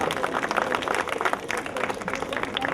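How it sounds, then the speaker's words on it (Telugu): An audience at a national Ugadi drama festival in Ongole applauds, giving a steady, dense patter of many hands clapping, moderately loud and continuous, with crowd noise underneath. "దయచేసి ప్రేక్షకులు అందరూ చప్పట్లతో చాలా అలంకరిస్తున్నారు చప్పట్లతో"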